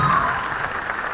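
Audience applause at a college farewell for prize winners, a steady wash of many hands clapping at moderate volume throughout the short moment.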